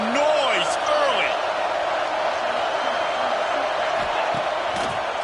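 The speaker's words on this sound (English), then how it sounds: "This crowd bringing the energy and noise early." Loud, steady roar of a large crowd cheering and whooping in the stands at an HBCU college football game, a dense wash of voices sustained throughout with occasional louder shouts rising above it.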